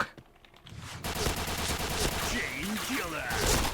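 Video game gunfire rattles in dense, overlapping bursts for most of the stretch, starting after a brief quieter lead-in, with voices talking over the shooting.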